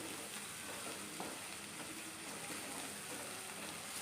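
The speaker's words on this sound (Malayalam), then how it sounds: "ഇത് നമ്മുടെ ഇഞ്ചിയും വെളുത്തുള്ളി നന്നായിട്ടൊന്ന് മൂക്കണം" Ginger and garlic paste fries for a lemon pickle, giving an even, soft, continuous sizzle with no other sounds over it.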